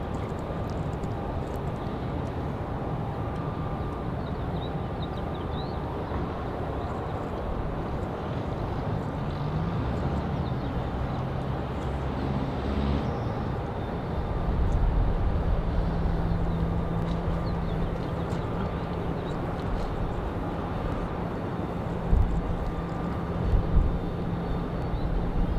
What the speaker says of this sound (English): It's another 737 on the way out,